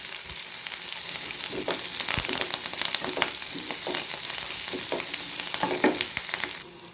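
Onions, green chillies and curry leaves sizzle steadily in a pan while cooking for an ivy gourd (kovakkai) chutney, with occasional stirring scrapes over the constant frying hiss, close up and without talk.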